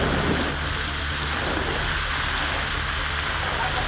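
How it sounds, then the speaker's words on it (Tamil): A heavy downpour roars in a dense, constant hiss with a low rumble underneath, from a storm with thunder and lightning over towns in Tamil Nadu, and no voices. "இடி மின்னலுடன் கூடிய கனமழை பெய்தது"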